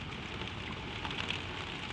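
Gentle rain falls steadily in the dark over open fields by a windmill, a soft continuous hiss of drops pattering on surfaces, even and unbroken.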